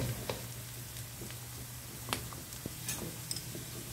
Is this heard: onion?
yes